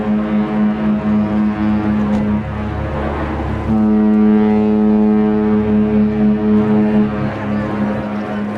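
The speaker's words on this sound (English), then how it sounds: "you'll hear the sirens of both ships" Deep, sustained ship horns from the cruise liners Anthem of the Seas and Queen Elizabeth blast loudly in long tones, a short pause between them, over wind and open-water background.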